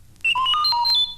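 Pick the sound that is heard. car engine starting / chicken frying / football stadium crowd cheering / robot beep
robot beep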